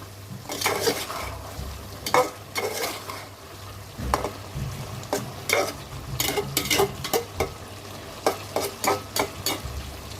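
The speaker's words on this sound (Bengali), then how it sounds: "তেল উঠা পর্যন্ত তরকারিটা কষাতে থাকবো" A fish curry with cauliflower, flat beans and carrot sizzles in a pan while being stirred, with repeated scraping strokes and utensil clatter in an uneven rhythm close up.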